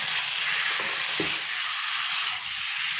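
Onions sizzle in hot oil for a Bengali-style fried mixed vegetable dish, a steady bright crackle close by with a faint stir or two partway through.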